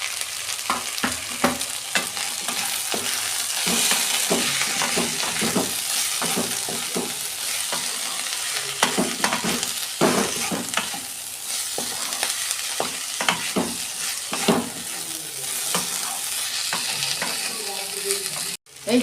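Spices (turmeric, cumin, chili powder, a little sugar) stirred and scraped in a frying pan for a Bengali small-shrimp and Malabar spinach stem dish, a steady loud sizzle with frequent scraping spoon strokes throughout, no talk.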